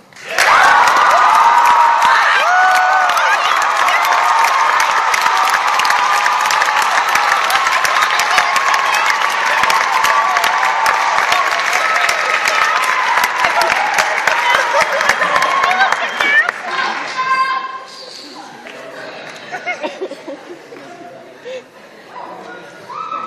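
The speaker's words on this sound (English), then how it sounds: "Please give a rowdy round of applause for President Shirley Mullen." A college audience applauds and cheers for the college president, a loud, dense roar of clapping and whoops sustained for about sixteen seconds before fading into scattered voices and quieter chatter.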